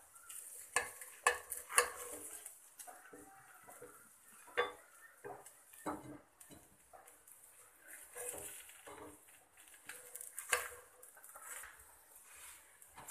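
Masala akki rotti, a rice flour flatbread, cooking in a pan, with soft irregular scrapes, taps and a faint sizzle from a spatula and pan, quiet and close with no talk.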